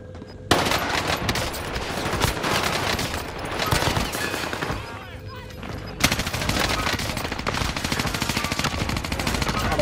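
Gunfire in a video game, dense rapid bursts of automatic weapon shots crackling almost continuously, loud and close, with brief lulls between volleys.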